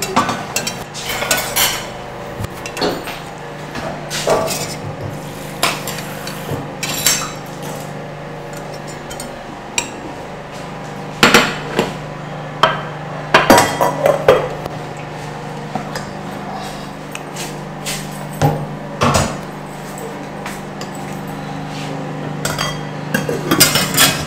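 Spoons and dishes clatter as folio pap is scooped out and bean cake (akara) is served onto plates at breakfast, with scattered close clinks, scrapes and knocks over a steady kitchen background.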